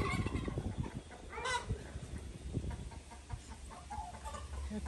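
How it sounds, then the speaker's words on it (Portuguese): Agitated turkeys in a backyard, gobbling and clucking in restless bursts that come close and fairly loud, with other fowl calls mixed in over a low outdoor background. "Aí vê o peru ali, ó."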